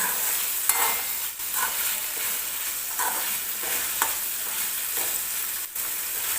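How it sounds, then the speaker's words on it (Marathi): Chickpeas for a dry chole curry are stirred in a hot pan, with repeated scraping strokes of a spoon at a steady rhythm over constant sizzling, close and fairly loud. "आणि छान मिक्स करून घेऊया"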